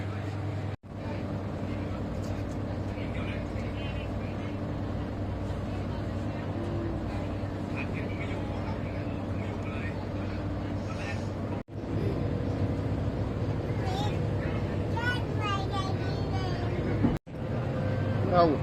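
A steady engine drone and rumble of a moving catamaran runs throughout, with people chattering faintly in the background.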